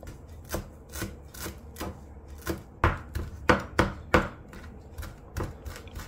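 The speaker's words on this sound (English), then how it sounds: "Chop it up fine." A knife chops cilantro and green pepper fine on a board in a kitchen. Sharp, fairly loud strikes come in an uneven rhythm that quickens toward the middle, with no voices.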